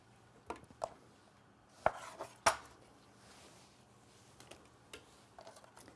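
Tomatoes being put into a pot for a marinara sauce, several sharp clattering knocks and thuds scattered unevenly over a quiet kitchen background.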